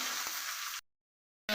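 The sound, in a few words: onion and chili sizzling as they fry in a pan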